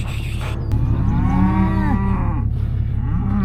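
A bull on a cattle farm lets out one long, loud, deep moo that rises and falls, heard close over a constant low rumble of wind or engine noise.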